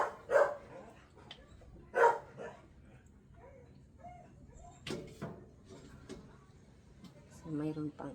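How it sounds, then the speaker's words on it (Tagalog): A dog barks a few times in short, separate yelps, fairly faint and spread out, with quiet gaps and a voice talking nearby. "Maingay yung aming dogi."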